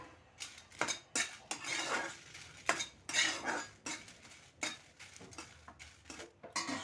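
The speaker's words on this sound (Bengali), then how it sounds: "এখন শুকনো লঙ্কাগুলো ভেজে নেব।" Dry red chillies are dry-roasted in a heated kadai over a medium flame, with a spatula scraping and tossing them in quick rhythmic strokes, close and without talk.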